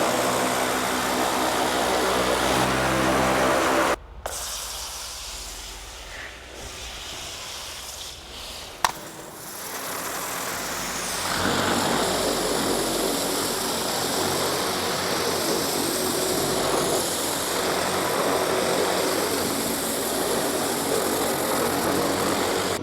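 Pressure washer running through a turbo nozzle while cleaning a filthy zero-turn lawnmower, a loud steady roaring hiss that cuts out briefly, then sputters and returns as a sustained broadband spray close by.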